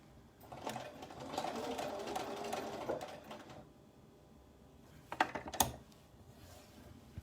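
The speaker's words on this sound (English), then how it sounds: "So basically we're just back stitching that corner of the pocket all the way down" A sewing machine back-stitches the corner of a skirt pocket in quick bursts of rapid needle clatter, close and fairly quiet, with a pause and a few short clicks and taps near the end.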